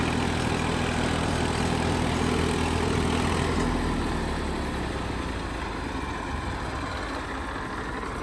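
A Massey tractor with its original engine runs at a steady, smooth idle, a continuous low drone close by with no talk over it.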